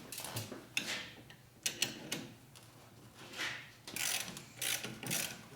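A ratchet wrench with an extension working on a 2004 Harley-Davidson FLHT Twin Cam 88 touring motorcycle during a cam tensioner bearing repair, giving bursts of close, irregular clicking strokes with pauses between.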